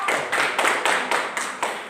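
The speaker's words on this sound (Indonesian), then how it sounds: "tepuk tangan untuk semua kelompok" Students in a classroom chemistry lesson clap for all the groups in a patterned rhythm, about seven crisp, evenly spaced bursts of many hands clapping together, fairly close and with no speech.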